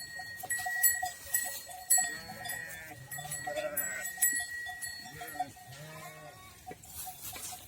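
Lambs and sheep in a flock bleat repeatedly at close to middle distance, with bells tinkling throughout and a few overlapping calls.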